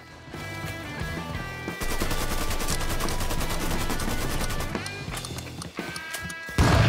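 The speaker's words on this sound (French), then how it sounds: "Je lance une grenade." A grenade lobbed and bursting in the game Mafia 3, heard amid a dense, loud stretch of gunfire-like crackling and rapid reports, with a sharper surge at the end.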